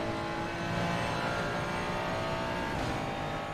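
Race car engine from the Assetto Corsa Competizione sim, a steady dense drone held at a constant loud level for a few seconds with a slight pitch shift near the end, and no talk over it.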